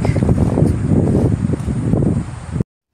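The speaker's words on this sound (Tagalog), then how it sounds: "sumisipol talaga yung hangin" Wind buffeting hard and close with a rough, gusty rumble, then cutting off abruptly.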